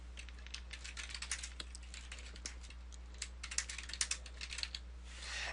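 Rapid, light clicking of computer keyboard keys while entering HTML code in Dreamweaver CS6, a quiet continuous flurry of keystrokes with uneven bursts and no voice.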